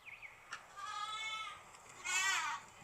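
A goat bleats twice in quick succession, a wavering, nasal cry that rises louder on the second call, heard alone without speech.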